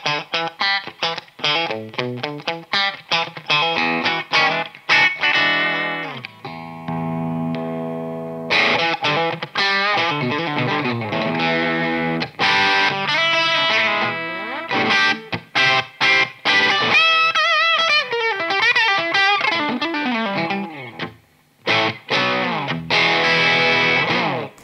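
Distorted electric guitar from a Fender Player Lead with out-of-phase single-coil pickups, playing loud, continuous chords and riffs with brief pauses, up close and alone.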